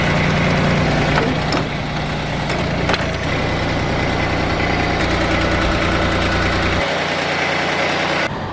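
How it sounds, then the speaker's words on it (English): Idling engine of a ZD 326 ride-on lawnmower with a 60-inch deck and 25 horsepower, a loud, steady low rumble with slight vibration throughout, close by and with no talk. "It's a very tidy machine, comes with a 60-inch deck, 25 horsepower, ideal mower for anyone looking to start out."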